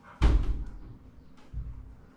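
A swollen wooden bathroom door jammed shut with a loud thudding bang, then a second, softer thump about a second later as it is forced further into the frame, close up with no talk.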